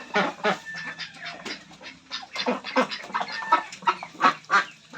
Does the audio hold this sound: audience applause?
no